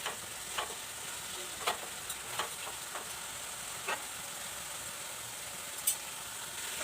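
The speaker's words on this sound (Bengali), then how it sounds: "লবণ দিয়ে আমি ভালো করে মশলাটা কষিয়ে নিচ্ছি" Spice masala with salt sizzling as it is sautéed in a pan for vegetarian palak paneer, a steady soft fry hiss broken by several brief scraping clicks of a spoon stirring, with no talking.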